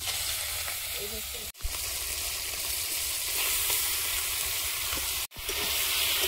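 Lote (Bombay duck) fish frying in oil with five-spice seeds and a dried chilli, a steady loud sizzle and crackle running throughout, broken by two brief drops to near silence.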